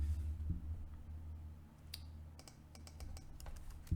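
Typing on a computer keyboard during mortgage application software data entry, a quiet run of uneven light key clicks, faster near the end, over a low steady hum with no talking.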